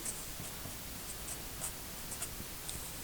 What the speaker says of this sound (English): Maybe I'll write that down.